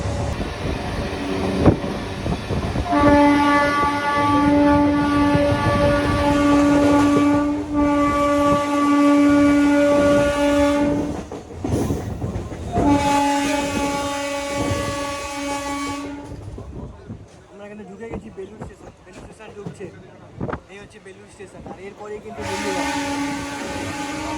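A Bardhaman–Howrah chord line super local train runs at speed with wheel clatter and rumble, sounding its horn in long loud blasts twice and again at the end, close and dominant.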